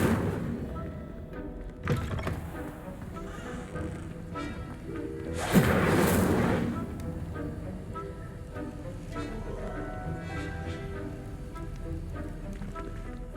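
Incendio fire spell cast in Hogwarts Legacy: a brief whooshing burst of flame bursts out loudly over a steady game soundscape, with a softer thump shortly before.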